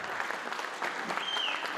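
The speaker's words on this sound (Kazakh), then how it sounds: "Не деген шапалақ" Guests at a Kazakh wedding party clap together in a burst of brisk, dense applause, moderately close and filling the room, with a faint whistle rising briefly near the end.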